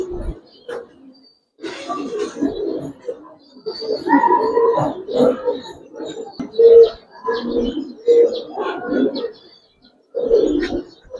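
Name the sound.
Giribaz and coloring pigeons cooing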